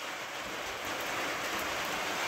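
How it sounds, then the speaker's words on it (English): Steady rain hisses down in a dense, even wash, falling on surfaces nearby with no gaps, outside an ambulance converted into a camper. "Even though it's raining."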